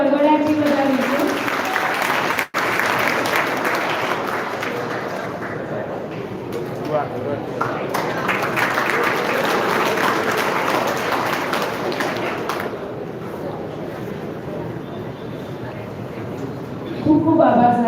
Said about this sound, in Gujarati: તાળીઓના ગડગડાટથી વધાવીશું.